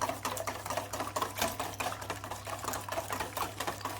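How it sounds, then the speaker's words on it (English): A salty egg mix for fishing bait is whisked briskly in a bowl. Rapid, evenly spaced clicking taps run continuously over a low steady hum. "So we'll whisk that little lot together, like so."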